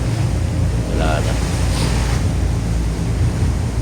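Sea waves washing against a boat off Cuyo, Palawan, a loud continuous rushing roar mixed with heavy wind buffeting, while a voice speaks briefly over it.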